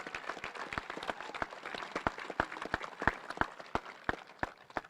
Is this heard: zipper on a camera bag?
no